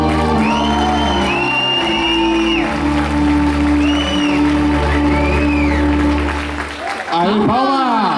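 An audience at a cosplay contest applauds and cheers loudly and steadily, with whoops and shouts over a bed of sustained music, the clapping rising to a noisy peak near the end.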